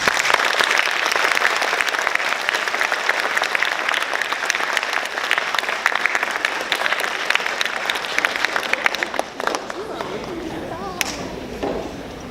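An audience claps after a student's early college capstone presentation, a dense steady burst that thins out near the end as a voice begins speaking.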